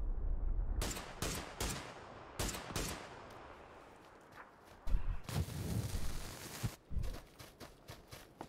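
Gunfire rattles in the PC battle royale game PUBG, with several sharp, loud cracks and short bursts scattered irregularly over a quieter stretch of ambient game noise.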